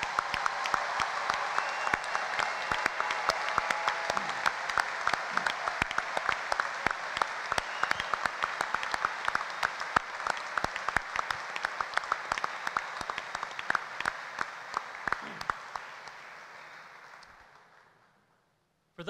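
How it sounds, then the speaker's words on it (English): A large commencement audience at Baldwin Wallace University applauds its graduates with sustained, dense clapping that stays steady and loud for a long stretch, then thins and fades out near the end. "How about a round of applause for all of our graduates?"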